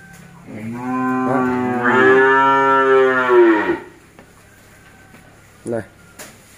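A cow at a beef cattle farm lets out one long, loud, close moo lasting about three seconds, followed by quieter clunks of gates or stalls.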